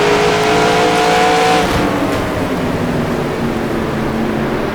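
Vintage 1960s NASCAR trucks racing in an NR2003 simulator mod, with a loud continuous engine roar, pack of trucks close together, and no talking.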